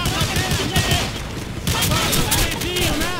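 Rapid gunfire from a Call of Duty match set in Rio's Turano favela, bursts of shots crackling close and loud over a dense battle din, with voices shouting amid the shooting.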